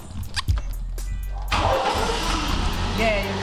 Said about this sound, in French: Sois pas timide, je vais allumer la voiture.